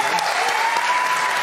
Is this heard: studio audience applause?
yes